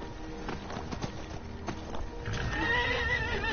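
In Skyrim, hooves clop along in a quick rhythm, then a horse lets out a loud, drawn-out neigh near the end.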